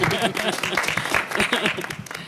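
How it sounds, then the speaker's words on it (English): Brief applause from the audience at a Black women's roundtable gathering, a short patter of clapping mixed with voices and chatter. "So, yes, you can clap for that."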